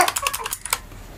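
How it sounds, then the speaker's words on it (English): Fast typing on a Razer Huntsman Mini keyboard: a quick run of about eight crisp key clicks over less than a second, close and clear, then quiet. "So we also have my keyboard, it's the Razer Hunter Mini."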